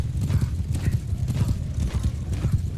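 Horses gallop in a Mount & Blade II: Bannerlord battle, a dense, loud drumming of many hooves rolling on continuously with an occasional whinny mixed in.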